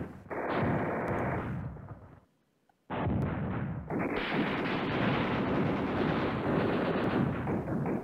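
Artillery fire in the wartime strategy game Command Ops 2, set around Beda Fomm: dense, loud rumbling barrages that roll continuously, break off into brief near-silence, then resume and build into a sustained heavy bombardment.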